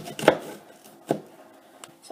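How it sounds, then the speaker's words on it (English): A knife chopping an onion on a cutting board, three or four sharp, close chops spaced unevenly, the first loudest, with no talking. "the entire time I'm chopping too, I'm keeping my fingers pretty far back."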